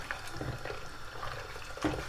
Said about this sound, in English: So you add water, boiling water,